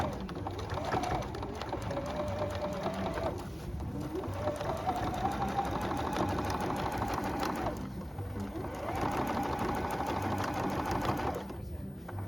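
A sewing machine stitches across the center seam of a reversible fabric bag, running in three sustained bursts with brief pauses between, its motor whirring and needle chattering steadily at moderate distance.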